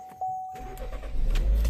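A 1.5-liter turbo Chevy Equinox Premier AWD starts up after a brief chime: the starter engages and the engine catches, rising into a loud, steady idle close by.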